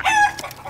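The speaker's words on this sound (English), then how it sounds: "I got a couple chickens out back." A backyard chicken gives a short, close, loud cluck with a brief squawking rise, followed by softer clucks, all within under a second and with no voices.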